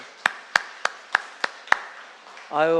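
A congregation in a church gives six sharp, evenly spaced claps in a slow rhythm, echoing in a large room, before a voice starts speaking.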